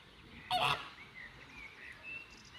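A flamingo at a park gives one short, loud, goose-like honk, then falls silent against a quiet, faintly hissing outdoor background.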